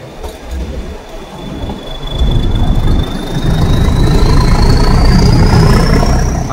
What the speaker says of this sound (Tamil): திரும்ப நம்ம ட்ரெயின் போயிட்டு இருக்குங்க.